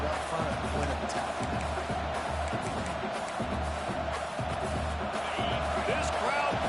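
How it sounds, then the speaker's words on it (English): At a college football game between Texas A&M and Clemson, the stadium crowd roars as a dense, steady wash of noise with thumps and cheers, the broadcast commentator talking over it throughout. "This crowd bringing the energy and noise early."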